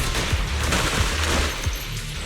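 Gunfire in the Zenless Zone Zero action game, a rapid fusillade of shots and low thuds over dense, loud game noise.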